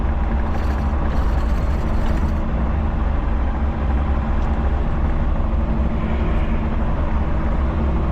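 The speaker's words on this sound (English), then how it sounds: "I want to get as much material under there as I can get with the skid steer" A skid steer loader's diesel engine runs continuously at a steady, loud, close drone while it spreads fill material under a front porch, with no talk.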